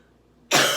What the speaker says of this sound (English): I can tell I'm going to start coughing again.